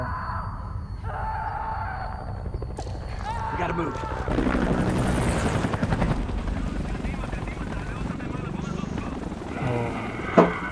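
A helicopter's rotor drone rumbles through mixed with voices and background music in a zombie movie attack scene, with a sharp impact at the end.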